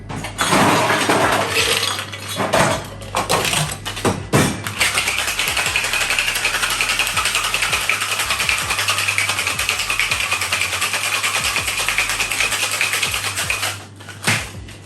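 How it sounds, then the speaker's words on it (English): Ice rattles hard inside a cocktail shaker shaken vigorously, a loud, dense, continuous clatter running for most of the stretch before tapering off near the end. "Now all that's left to do is add some ice and give it a good hard shake."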